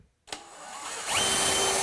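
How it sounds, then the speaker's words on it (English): A power drill pre-drills a hole in a cabinet door near the top: a sharp tap, then a steady whirring motor that rises in pitch and holds loud and close for about a second. "I'm just going to pre-drill a hole off the counter near the top"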